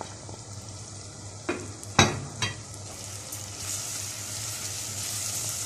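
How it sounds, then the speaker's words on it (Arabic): Stirring filling in a pan for stuffed sausage casings: a soft, steady sautéing sizzle, with a few sharp scrapes and clicks of a utensil against the pan. "وهفضل اقلب فيه لحد ما يدبل انا مش عايزاه يتحمر انا عايزاه يدبل بس"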